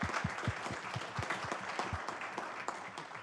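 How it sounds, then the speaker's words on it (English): Applause at a town council meeting: a room of people clapping steadily for about three seconds, with the low thump of individual claps standing out early on. It is moderately quiet and has no talk over it. "let's say thank you and clap"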